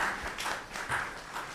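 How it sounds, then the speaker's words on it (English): Applause from a research conference audience, heard faintly in a brief burst of scattered clapping that swells and dips without any talk over it. "Let's give her a round of applause."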